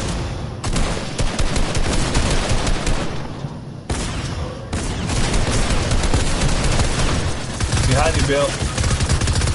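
Rapid gunfire bursts from the video game Fortnite fill the clip, loud and dense with bursts of automatic fire, with a brief gap near four seconds, while players talk over it.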